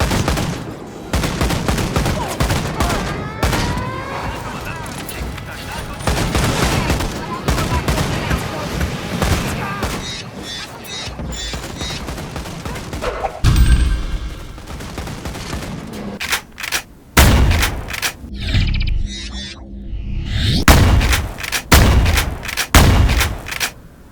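Rapid, dense gunfire from the shotgun grenade launcher in the game Ion Fury, with booming shotgun blasts and explosions piling up loudly across the whole stretch, bursts now and then thinning into brief gaps.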